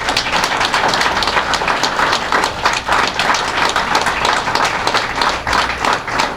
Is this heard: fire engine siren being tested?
no